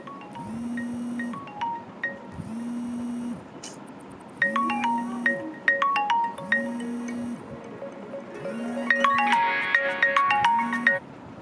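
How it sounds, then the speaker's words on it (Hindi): A phone ringtone plays in a repeating electronic melody, with several rising-and-falling tonal phrases repeated across the stretch, growing busier toward the end, heard alone without any talking. "फ़ोन आ गया था बीच में एक सॉरी"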